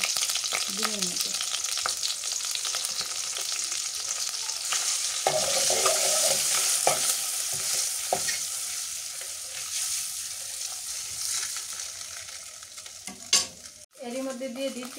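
Eggs seasoned with turmeric and salt fry in a pan: a continuous sizzle mixed with repeated scraping stirs, swelling midway, then a sharp clunk near the end, no talking.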